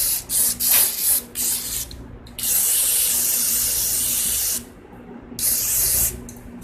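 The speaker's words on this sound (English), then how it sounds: "I'm going to take some carbon choke cleaner and just spray this off and wipe it off." Aerosol carb and choke cleaner hisses in short bursts onto small Echo PB-2100 blower carburetor and spark arrestor parts, several quick sprays followed by a longer steady spray and one more burst, close and loud with no talking.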